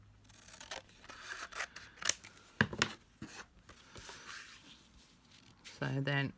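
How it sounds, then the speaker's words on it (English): Scissors trimming card for a picture frame, several quick close snips and rustles of the card in a quiet room, followed by a short bit of speech at the end. "So you can actually trim some off the bottom there as well"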